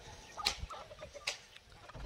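Backyard domestic hens clucking nearby, a few sharp, separate clucks and short calls scattered over a quiet background, with no talking.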